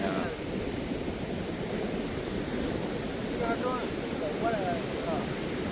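Sea waves crash steadily onto a shore, a continuous loud roar of surf with wind noise filling the whole stretch, and faint voices come through underneath.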